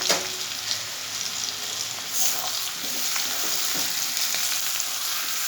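Ground cumin, ginger and chili paste sizzle in hot oil in a pan, a loud, steady crackling fry with a few stirring scrapes, no voices.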